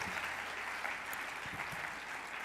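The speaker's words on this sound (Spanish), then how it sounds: "Un aplauso para Joserra." Audience at a talk on Catholics in politics gives sustained applause, a dense wash of many clapping hands filling the room, with a few murmured voices beneath.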